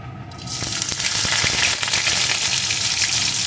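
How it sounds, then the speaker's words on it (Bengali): Chopped garlic frying in oil with whole cumin tempering, a dense close sizzle that swells after the first moment and holds steady with faint stirring clicks. "রসুন কুচিটাও ভেজে নেব"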